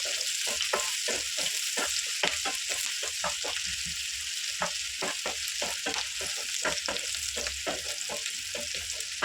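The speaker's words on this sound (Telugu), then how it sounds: "నేను ఫ్రై చేసుకున్నాను కొంచెం ఎర్రగా ఫ్రై అయితే సరిపోతున్నది" Onion frying in a pan for bitter gourd curd curry, with a constant loud sizzle and hiss beneath a steady run of close, rhythmic scraping stirs of a spatula against the pan.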